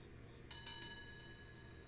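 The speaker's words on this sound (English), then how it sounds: "Let's start with a nice bell." One bell is struck to open a spiritual tarot card reading, giving a bright, clear strike that rings on with a slowly fading shimmering tone in a quiet room.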